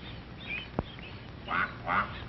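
A mother duck on a farm gives two short, fairly faint quacks in quick succession, calling to her ducklings over a low background hiss.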